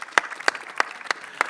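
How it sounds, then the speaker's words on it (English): Crisp handclaps at a Netflix launch event for The Royals, about five sharp, evenly spaced claps in a quick rhythm, close and fairly loud over a quiet background. "let's have a huge round of applause"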